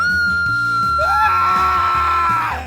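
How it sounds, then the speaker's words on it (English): A woman in an animated English children's bedtime story lets out a loud, sustained scream that rises and holds for over a second over a steady musical beat. "She screamed loudly to the man."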